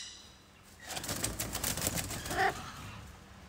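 Crows beat their wings in a run of soft, fluttering flaps that build over a couple of seconds, fairly close and with no voices over them.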